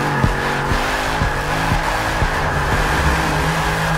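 Dodge Challenger Hellcat drifting in the Forza Motorsport 6 video game, a continuous engine roar with squealing tires and rhythmic clicking shifts or bumps repeating through the run.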